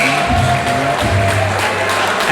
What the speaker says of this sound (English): we hear this capacity crowd here at Attleboro High School getting loud